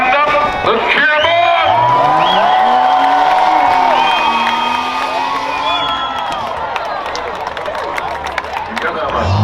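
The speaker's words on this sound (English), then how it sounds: "Let's cheer him on." A crowd cheers and whoops for a truck driver at a county fair rough truck event, loud and sustained under a shouting announcer and nearby voices.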